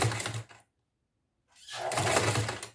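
Sewing machine stitching a backstitch on fabric for a placemat cover, two short close bursts of rapid mechanical stitching separated by a second of silence, with no talking.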